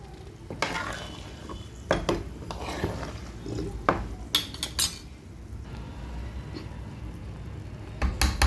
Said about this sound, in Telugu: కొంచెం పసుపు వేసుకొని కలుపుకోవాలి